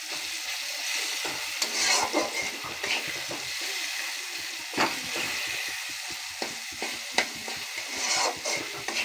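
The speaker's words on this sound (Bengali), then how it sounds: "ভালো করে একটু নেড়ে নেবো।" Fish curry stirred in a frying pan, made with sugar and salt, gives soft repeated scraping and stirring strokes over a steady close sizzle of frying, with no talking.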